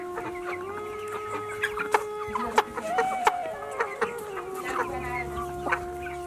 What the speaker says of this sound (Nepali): दिनभरि यसरी नै कुखुराहरूलाई पानी दिने